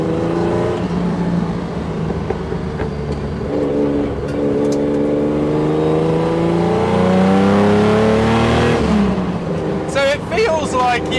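Lightweight Jaguar E-Type engine revving hard toward about 5,500 rpm, a loud, continuous climbing and falling harmonic roar heard from close, with a brief lift off the throttle near the end.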